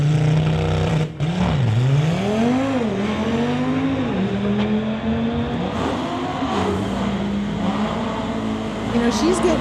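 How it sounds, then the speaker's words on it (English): 2018 Audi RS3 drag racing a BMW at a street-legal drag strip event, engines revving and rising in pitch through gear changes, loud and continuous, with an announcer talking over it. "Malia in her 2018 Audi RS3. Going against the BMW in the Lordco lane."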